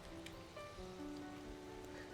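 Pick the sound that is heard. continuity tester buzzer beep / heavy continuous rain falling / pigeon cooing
heavy continuous rain falling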